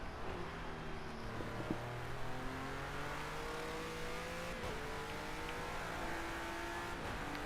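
A video game car engine drones steadily while driving, its pitch rising and shifting through gear changes at a constant moderate level, with no voices.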